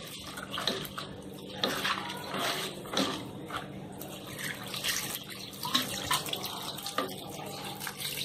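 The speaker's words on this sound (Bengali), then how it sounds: "এবার আমি এটা মধ্যে ঠান্ডা জল দিয়ে একটু ধুয়ে নেব।" Poha (flattened rice) being rinsed under cold tap water in a kitchen for chire polao, with running water and repeated splashy bursts as the flakes are swished, moderately close.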